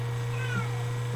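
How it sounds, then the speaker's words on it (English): Pet cat meowing indoors, a short plaintive call close by over a steady low hum, with no talking. "That's my cat Rexy."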